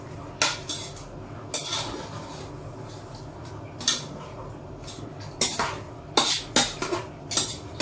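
Chicken being stirred in a cooking pot for bam-i (pancit bisaya), with repeated metal utensil clanks and scrapes against the pot in irregular bursts, close by with no talking.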